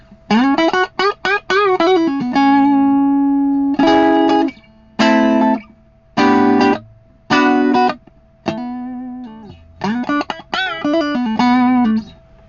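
Electric guitar on the neck pickup through a Fender Frontman 15G amp with a Celestion Eight 15 speaker, warmer tone, plays quick runs, then a series of separate held chords with short gaps, then more runs.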